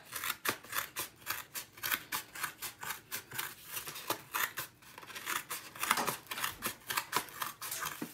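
Scissors cut around the rim of a plain paper plate in a steady run of crisp, rhythmic snips, close and continuous, with no voices.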